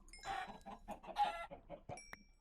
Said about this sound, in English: Chickens immediately start spawning.